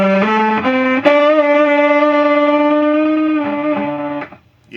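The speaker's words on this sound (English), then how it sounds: "That's the delay." Delay effect from a 1982 Cort Effector unit processing a sustained, heavily harmonic guitar tone, with repeated attacks smearing into a steady wash that rings loudly for several seconds before cutting off abruptly.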